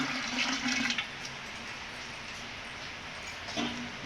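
Water rushes and splashes as it is poured into curd to make Odia tanka torani. The flow sounds steady with a louder burst at the start and near the end, close and alone.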